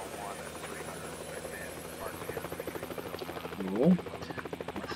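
Helicopter engine and rotor in a search-and-rescue helicopter video game, a continuous pulsing chop with a steady whine, getting louder and faster toward the end, with someone talking briefly over it.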